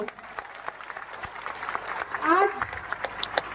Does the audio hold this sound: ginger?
no